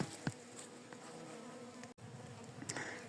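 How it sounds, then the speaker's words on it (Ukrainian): Faint, steady insect buzzing in a quiet outdoor setting by an oak tree, with honeybees and drones droning continuously and a few louder passes close by. "Бачу багато трутня туди залітає вже мені в шию."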